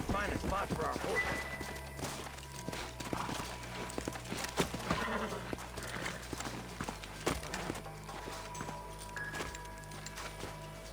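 Horse hooves clip-clop in uneven rhythm at a moderate distance in the video game Red Dead Redemption, mixed with faint game ambience and occasional voices.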